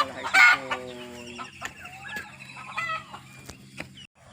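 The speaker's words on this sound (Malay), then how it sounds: "ayam-ayam yang mak saya ternak di kampung lah" Village-raised chickens cluck repeatedly with short, close calls, one louder squawk near the start and softer clucking trailing after, over a faint low background hum.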